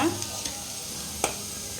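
Onion frying in a pan for prawn curry, a steady close sizzle with a couple of soft stirring scrapes, one sharper clack late on, no talking.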